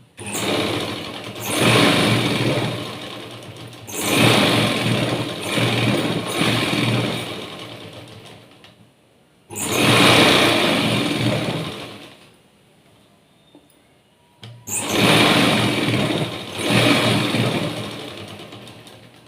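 A sewing machine stitching lining cloth runs in four long bursts of steady whirring stitching, close and loud, separated by short quiet pauses.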